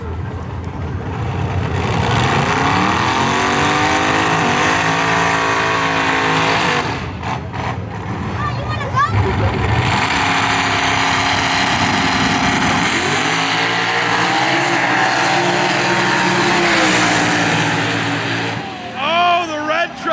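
Trucks on a 1/8-mile drag pass at a Street Car Takeover event in Houston, engines roaring and revving hard through gear changes, loud and sustained with surges and dips as they run, under crowd and commentator voices.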